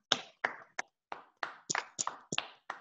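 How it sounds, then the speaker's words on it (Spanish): Sparse hand claps at the close of a conference lecture, about ten distinct separated claps in an uneven rhythm, fairly faint and near, with no talk. "Un aplauso para todas y todos."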